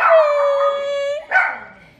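A pet dog at a family home on Thanksgiving lets out a long, loud, rising howl that breaks into a short bark or yelp, close to the microphone, with no talk.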